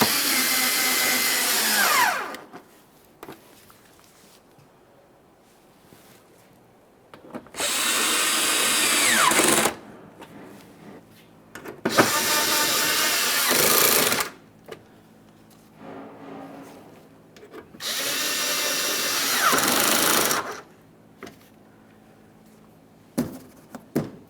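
A power tool snugs up the bolts on the intake camshaft position sensor of a 2015-2020 Ford F-150 3.5L V6, running in four loud whirring bursts of two to three seconds separated by quiet pauses.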